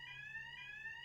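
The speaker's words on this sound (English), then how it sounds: "the fire alarm's just going off" A building's fire alarm sounding, a steady high electronic tone pulsing in two long beats, continuous and moderately loud against a quiet room with no talk.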